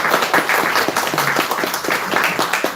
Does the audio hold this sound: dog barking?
no